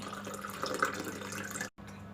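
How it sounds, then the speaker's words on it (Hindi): Cold water pours steadily into a glass of Rooh Afza and lemon with a soft splashing, trickling sound, ending abruptly in a brief silence before faint continuing noise. "अब हम इसमें बिल्कुल ठंडा पानी डालेंगे।"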